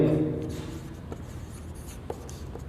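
Pen or marker writing on a board during a chemistry lecture on solid state packing fraction, a soft continuous scratching that fades after the opening second, followed by a few faint taps with no speech.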